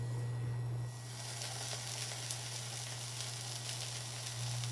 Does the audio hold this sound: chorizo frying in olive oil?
yes